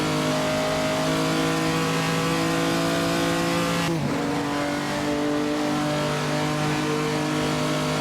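Classic 1925 Bugatti race car engine in Assetto Corsa, racing at the Noris-Ring Grand Prix, a steady close drone that dips briefly around the four-second mark during a gear change before pulling hard again.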